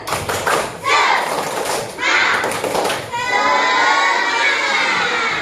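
A school class claps in a loud rhythmic spirit clap, bursts of clapping mixed with children's excited shouts and chanting voices.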